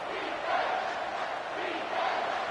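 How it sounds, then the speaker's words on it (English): Stadium crowd in the College Football 25 video game during a Purdue versus Michigan State match, a steady, broad roar of cheering that swells slightly, with no clear talk over it. "This crowd knows when to bring it."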